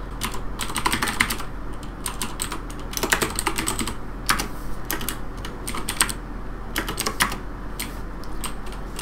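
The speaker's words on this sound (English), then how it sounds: "I'll type the command in the chat." Rapid bursts of typing on a computer keyboard, entering a Minecraft World Edit command into the game chat, with steady clicking runs separated by short pauses over a low background hum.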